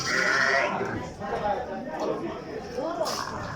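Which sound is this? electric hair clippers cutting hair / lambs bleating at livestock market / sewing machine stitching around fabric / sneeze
lambs bleating at livestock market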